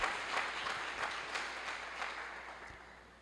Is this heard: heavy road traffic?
no